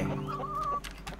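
Chickens clucking on a farm in the video game Dinkum, a few short close clucks and a rising warble over a steady background music bed, with no talking.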